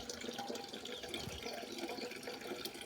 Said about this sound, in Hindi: तो दोस्तों अभी मैं भर रही हूँ पानी